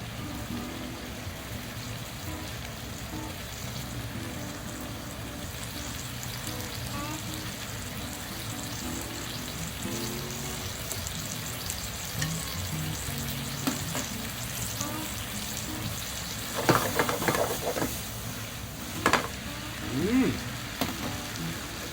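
Pork with soybean paste and tobanjang stir-frying in a pan for twice-cooked pork: a steady, close sizzle and crackle throughout, with a few louder bursts of stirring and spattering near the end.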